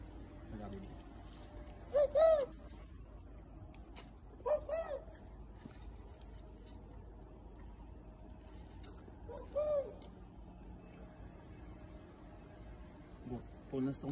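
Turtle doves cooing near city pigeons being fed bread, with a few short soft coo phrases spaced several seconds apart over quiet street background, without talking.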